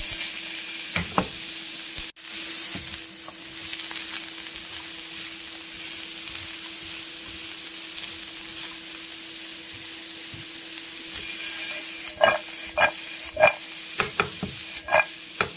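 Mutton chops fry in a pan with a steady, close sizzle and hiss, joined near the end by several sharp scraping stirs against the metal; no one speaks.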